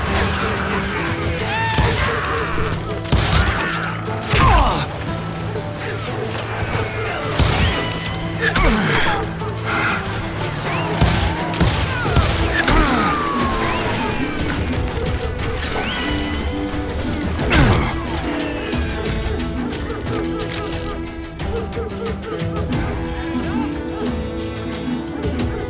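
Shots ring out in the Western shooter Call of Juarez Gunslinger, with repeated sharp gunshots, impacts and crashes in irregular bursts mixed with shouted in-game voices and background music.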